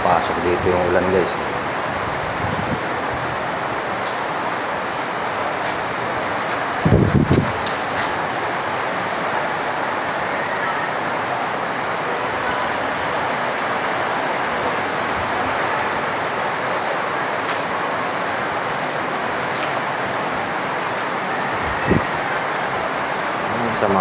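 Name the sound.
rain and wind in bad weather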